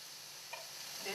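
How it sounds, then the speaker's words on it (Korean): Pork belly sizzling on a grill at a family dinner table, a brief close crackle of fat with soft pops, steady and low under quiet room noise. "삼겹살도 지글지글 구워지고 있습니다"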